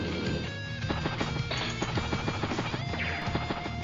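In Advance Wars: Days of Ruin, a mech unit fires on a meteor, a burst of rapid gunfire clatter with crashing impacts over game music, loud and continuous for a few seconds.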